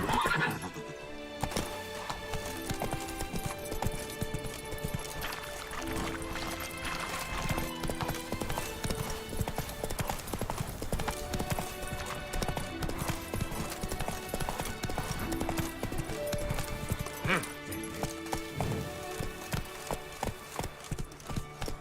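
Horse galloping in The Witcher 3 video game, rapid rhythmic hoofbeats pounding steadily over a game soundtrack, with a few neighs, continuous and fairly loud throughout.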